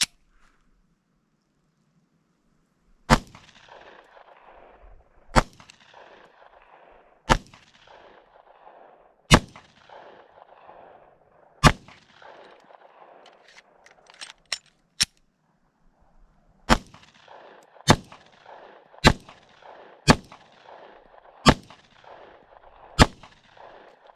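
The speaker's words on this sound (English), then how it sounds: "That was 50 rounds of Fiocchi range dynamics." A Glock 43 subcompact pistol converted with a PSA Micro Dagger slide, firing Fiocchi Range Dynamics FMJ rounds at a range: a dozen sharp, loud shots spaced a second or two apart, each followed by brief rattling ring.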